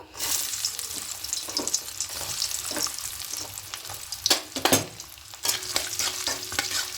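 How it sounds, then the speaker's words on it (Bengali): Coconut pieces frying in hot mustard oil in a wok, a moderate crackling sizzle broken by stirring scrapes and a few sharper clatters, no talking. "এবার এখানে প্রথমে নারকেলগুলোকে ভেজে নেব"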